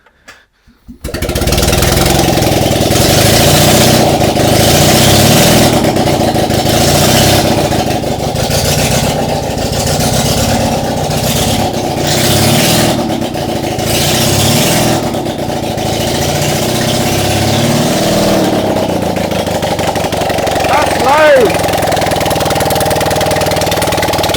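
An engine cranks and catches with the choke on, then settles into a loud, steady close idle with a rough, knocking pulse and slight swells in pitch running for over twenty seconds.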